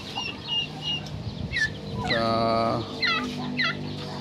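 Turkeys gobble close by, with a loud rattling call in the middle amid other scattered bird cries and yard noise.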